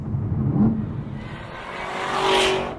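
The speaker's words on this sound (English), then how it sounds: "This thing has automatic rev matching on the downshifts." Engine revs climbing and dropping as a car downshifts with automatic rev matching, the exhaust blipping up near the end, with a steady motor drone throughout.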